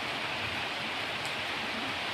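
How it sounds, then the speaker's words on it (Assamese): Steady rain falls in a dense, even hiss after heavy wind and rain, close and continuous with no voices over it. "বৰষুণ দিয়ে আছে।"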